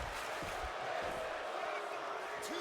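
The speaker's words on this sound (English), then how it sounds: "the crowd's damn near yelling that this is awesome" Wrestling event crowd at a live independent show, a steady loud roar of cheering and yelling from the arena audience, continuous throughout with a few whoops rising out of the din.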